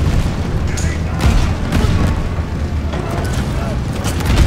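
Explosion in the Call of Duty Vanguard campaign: a dense, rumbling game battle mix with booming blasts and gunfire-like bursts running steadily throughout, loud and continuous.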